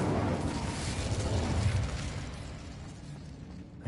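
The Incendio fire spell is cast in Hogwarts Legacy, a single loud whooshing burst of flame near a witch's sarcophagus that flares up and then fades away over a few seconds.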